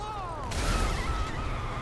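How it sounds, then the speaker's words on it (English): Explosions go off one after another in Grand Theft Auto V, a sudden loud burst and rumbling blast starting mid-clip after a rising whine, echoing on to the end. "Look, it's a chain reaction of explosions."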